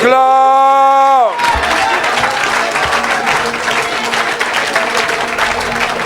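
A church congregation bursts into loud applause and cheering after a sustained tone fades, with whoops and shouts mixing into dense, continuous clapping that fills the space.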